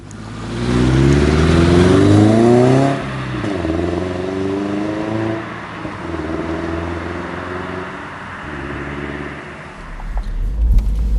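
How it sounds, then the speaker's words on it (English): A 2017 Subaru Crosstrek pulls away and accelerates, its engine note rising steadily through gears with shifts and a drop near the middle, then settling into a smooth, moderate drive hum close by. "So now in the car for a little drive"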